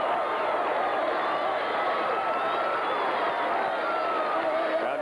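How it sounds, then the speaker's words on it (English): Crowd noise rises from the Logansport Berries cheering section at the 1979 Indiana high school baseball championship. It is a steady, distant roar of voices that holds at one level for the whole span, with no single shout standing out. "you can hear the noise coming out of the Logansport Berries cheering section down to our right"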